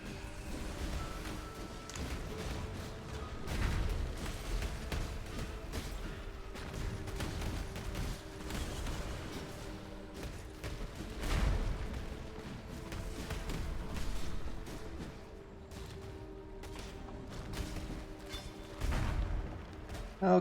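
A steady barrage of overlapping blasts and crashes from Path of Exile combat, with repeated louder booms punctuating a constant rumbling spell-effect din throughout.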